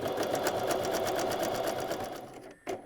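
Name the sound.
sewing machine zigzag stitching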